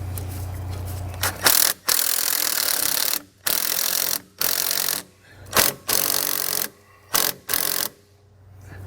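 Two sway bar end pieces for a Roadmaster front anti-sway bar on a 2018 Coachmen motorhome are threaded together by hand, producing loud, close, repeated scraping and ratcheting bursts separated by short pauses.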